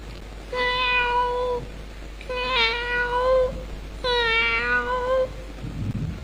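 A human voice mimics a cat with three drawn-out, wavering meows in a row, close and clear, as part of a storytelling mimicry act.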